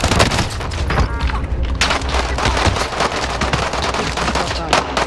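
Video game gunfire during a squad match, loud continuous bursts of shots and booms dense throughout, with players talking over the clatter.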